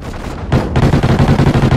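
Rapid bursts of loud gunfire in the video game Extinction, a short close volley that swells into dense repeated shots.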